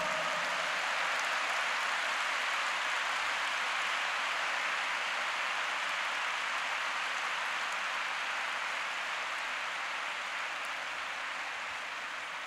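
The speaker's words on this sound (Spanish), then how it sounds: "¿Por qué no le da un aplauso al Señor?" A church congregation applauds during a Spanish-language sermon, a steady, even wash of many hands clapping that carries on at a constant, fairly soft level throughout without pause.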